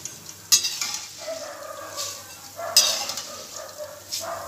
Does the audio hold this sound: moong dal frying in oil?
yes